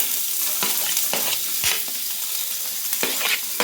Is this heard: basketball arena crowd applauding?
no